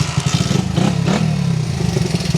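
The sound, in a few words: restored Honda XR-75 motorcycle engine revving on test ride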